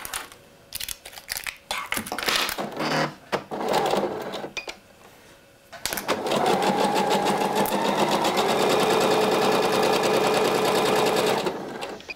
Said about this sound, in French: Et donc je vais piquer à la machine mes deux côtés.